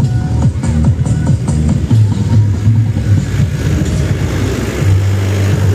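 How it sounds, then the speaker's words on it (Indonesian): Car engines rev and idle at an outdoor SPL car audio event, a loud, steady low rumble with rising and falling revs and a busy crowd mixed in beneath. "Para peserta sudah banyak yang ngegas."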